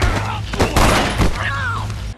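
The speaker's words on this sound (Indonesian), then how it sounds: "Dan sekarang mereka sudah memiliki pistol untuk melawan Frank." Pistol gunfire in a gangster fight scene, a few sharp loud bangs in quick succession with a booming, slightly echoing tail, mixed over a low hum and a brief high whistling tone.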